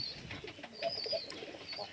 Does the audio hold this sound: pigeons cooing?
yes